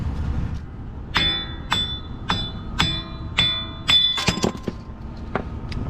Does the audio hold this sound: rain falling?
no